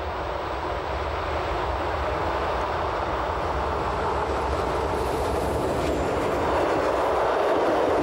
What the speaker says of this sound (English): our train can achieve its top speed for the journey here of some 125 kilometers per